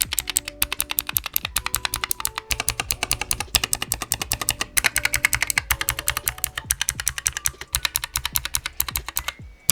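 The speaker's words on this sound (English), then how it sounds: "Super low profile, clicky mechanical keys." Rapid, crisp clicky keystrokes on a Keychron K5 Pro full-size ultra-thin low-profile mechanical keyboard, steady and close, with sharp individual clacks and no talking.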